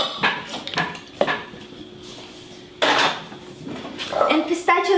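A spatula scrapes a cream mixture down the sides of a bowl in a kitchen, giving several sharp clinks and scrapes of utensil against the dish between quieter pauses.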